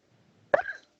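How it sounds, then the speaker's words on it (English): One short, close burp, abrupt and fairly quiet, followed by a brief rumbling tail. "I just had a burp attack"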